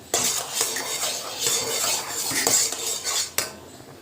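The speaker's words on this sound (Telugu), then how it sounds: "ఇప్పుడు మనం ఇలా రవ్వ వేసుకోవాలి రవ్వ వేసుకొని కలుపుకోవాలి" A metal spoon stirs semolina into boiling water in a pot, a run of clinks and scrapes against the sides in an uneven rhythm, close and moderately loud, with no voices.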